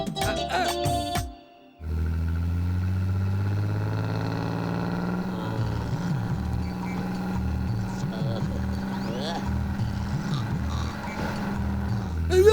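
A heavy bus engine drones low and steady, its pitch rising and falling as it labours through gears, with passengers talking faintly over it.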